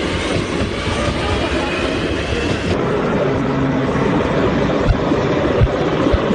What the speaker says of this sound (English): The last one being a train and kind of background noise.